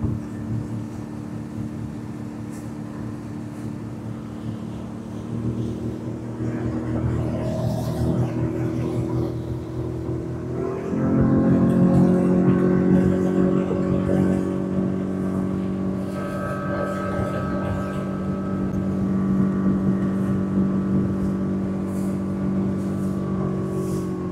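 Mercury/Tohatsu outboard motorboat under way, its engine droning steadily and rising in pitch and loudness around mid-run as it accelerates, with water rush beneath the hum.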